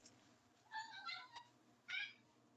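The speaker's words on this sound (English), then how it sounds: "Cat is meowing down below." A cat meows from somewhere below in a home during a cooking stream, two or three faint, somewhat distant tonal meows in quick succession over quiet background hum.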